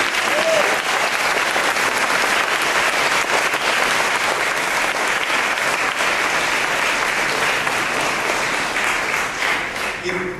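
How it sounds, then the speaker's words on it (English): An audience at a makeup artist face-off panel applauds steadily for about ten seconds, a loud, dense wash of clapping from a large crowd, with faint voices mixed in. "So everyone, round of applause for every single one."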